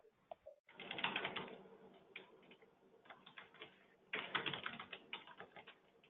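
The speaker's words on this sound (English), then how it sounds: "I'm sorry if you're hearing a bunch of clicking" Rapid clicking of a computer keyboard and mouse at a desk, quiet and close, in two busy bursts separated by a brief lull, with no voices.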